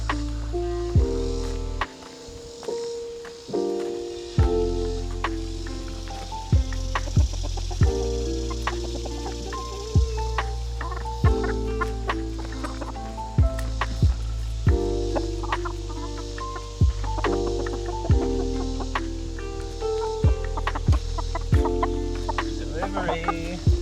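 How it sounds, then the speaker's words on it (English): Farm hens clucking repeatedly beside a hay bale during morning chores, close and fairly loud, with steady rhythmic bursts over a continuous background tone throughout. "There's the hen."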